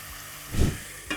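Onions, salt and spices sizzle in hot oil for a Hyderabadi khichdi, a steady low frying hiss with a louder burst of stirring in the middle and a brief clatter at the end, with no voices.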